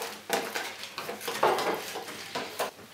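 Homemade bird food of margarine and seeds is stirred in a pot, with repeated scraping and clinking of a utensil against the container in an uneven rhythm.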